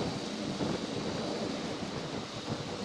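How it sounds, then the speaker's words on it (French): Strong outdoor wind during a Syma X5C quadcopter drone flight, a dense, constant rushing and buffeting noise against the microphone with no pauses. "on a énormément de vent"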